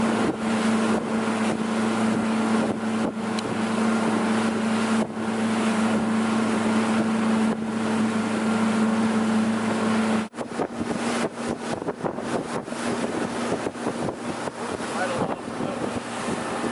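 Loud motorboat engine drone with steady hum, wind buffeting the microphone and water splashing against the hull on a birthday boat ride, continuous throughout with a sudden jolt midway as the boat bounces on waves.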